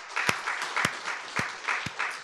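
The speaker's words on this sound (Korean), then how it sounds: "자, 박수 한번 격려합시다." A church congregation at an afternoon worship service claps in encouragement, a steady patter of applause punctuated by a few sharp, close handclaps, with no voices over it.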